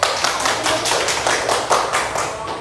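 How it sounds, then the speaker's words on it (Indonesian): Classroom applause for a student discussion group in an Indonesian language lesson: a small group claps in distinct pulsing bursts, fairly close and steady, with no talk over it. "Ya, tepuk tangan kepada kelompok 1."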